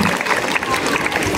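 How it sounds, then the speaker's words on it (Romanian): Parents and pupils gathered at a school ceremony applaud for teachers, a short burst of crowd clapping with some cheering mixed in and voices under it. "Aplauze pentru ei!"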